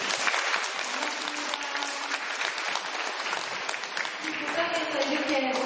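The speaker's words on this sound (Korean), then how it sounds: "박수 한번 드릴까요?" Applause from an audience of children and adults at a children's Buddhist dharma service in a temple, sustained and dense clapping throughout, with murmuring voices underneath toward the end.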